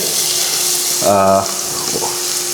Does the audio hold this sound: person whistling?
no